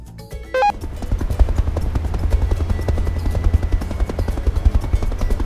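A toy helicopter's propeller spins up and runs steadily, giving a continuous low buzzing whir after a brief start-up tone, close and fairly loud.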